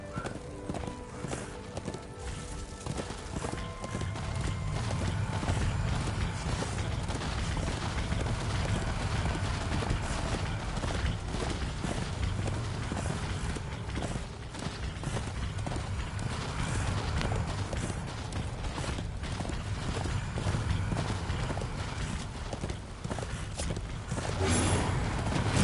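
Horse hooves clip-clopping in a video game, a continuous rhythmic trot with occasional whinnies over a low game soundscape, steady and close throughout.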